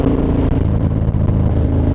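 Motorcycle engine revving hard during a wheelie attempt with the rear wheel spinning and barely lifting, a steady loud mid-pitched drone with slight surges and dips throughout.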